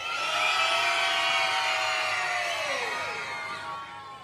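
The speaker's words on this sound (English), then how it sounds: "So after three, can you give me a big cheer?" A crowd of children cheering together at a Christmas lights switch-on in Antrim, one sustained high-pitched shout from many young voices that holds for a few seconds, then slides down and fades.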